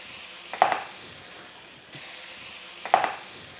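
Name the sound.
water poured into hot pan of tamarind gravy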